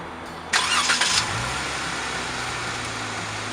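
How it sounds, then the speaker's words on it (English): A Jeep engine fires up by auto start, a short loud cranking burst that settles quickly into a steady, fairly quiet idle, with no one speaking. "Now just for fun, let's use the auto start. What happens when we turn the Jeep on?"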